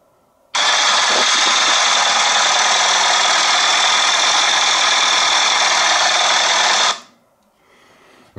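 A classic car engine running, recorded on a phone, a loud dense roar that starts abruptly, holds steady for about six seconds, then cuts off into quiet background.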